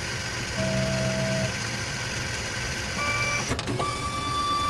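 An LTS200 automated lead tinning machine with solder pots runs steadily, giving a constant mechanical whir with brief electronic beeps and a short clattering actuation partway through.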